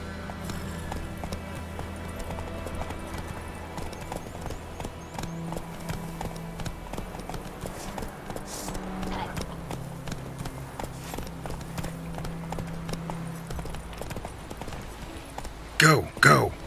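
Roach, Geralt's horse in The Witcher 3, clip-clops along in a steady rhythmic gait, hooves close and moderately loud over game music, with a brief louder burst of noise near the end and some voice underneath.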